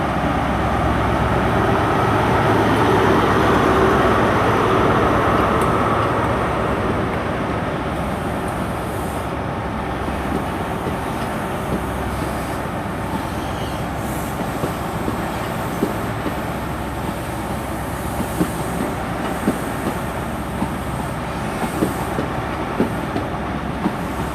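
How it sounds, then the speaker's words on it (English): Cross Country HST train 43304 pulling out of Exeter St Davids station, a steady diesel rumble with rail clatter that swells early and then settles into rhythmic clickety-clack of wheels passing. "Right, departing out now, 43:04."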